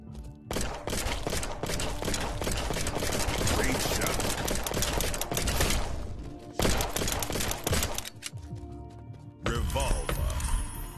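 Rapid revolver and shotgun fire in a VR zombie shooter, dense volleys of sharp shots hammering almost nonstop with brief pauses, loud and close.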